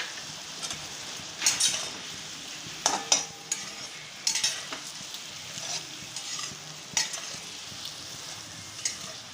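A paneer brownie mixture is stirred in a pan as it cooks down and thickens, with a soft background sizzle broken by scattered bursts of spatula scraping at uneven intervals.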